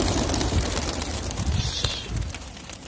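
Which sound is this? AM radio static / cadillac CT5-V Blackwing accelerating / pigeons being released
pigeons being released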